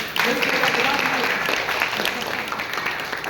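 Clapping from the audience at a welfare foundation gathering, offered in encouragement of the leader on stage; a fairly loud burst of clapping with crowd noise that fades gradually, with voices audible throughout.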